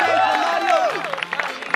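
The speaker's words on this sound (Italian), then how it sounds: "Un applauso a Gianmario." Fans cheering and clapping for a player after a crossbar challenge, a short burst of crowd applause mixed with excited voices and shouts close by.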